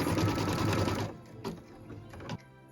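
A sewing machine runs steadily, stitching a placement line in light green thread on a Christmas tree skirt, then stops and leaves a few short quieter bursts of stitching, close and loud with no talking.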